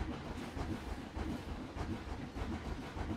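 A train rolling along a multi-train track network in a theme park video game, a steady rumbling clatter with rhythmic rail clicks and hiss, no voices.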